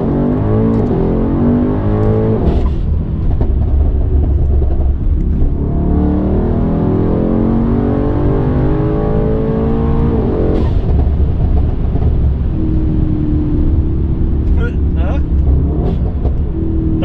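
A tuned Mercedes W213 E63s at stage 2+ growls steadily under throttle, its exhaust booming loud and close inside the cabin while people talk over it.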